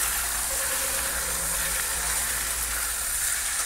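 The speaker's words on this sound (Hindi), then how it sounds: "तो ये चला अभी चिकन, अब इसको भून लेते हैं अच्छी तरीका से" Chicken pieces with browned onions sizzle and hiss steadily in a hot pan while being cooked down for chicken curry, a constant close frying noise with no talking.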